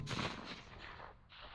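.204 Ruger rifle fired at a groundhog: a single sharp report with a brief outdoor echo tail, heard alone.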